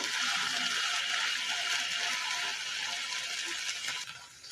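Okra frying in a pan over medium-low heat, a steady close hiss and sizzle throughout with faint scraping from stirring, easing slightly toward the end.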